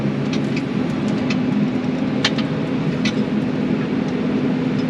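A tractor with automatic diff lock drives across a steep hillside while spreading fertilizer, its engine a steady, loud drone running continuously with faint clicks and rattles on top.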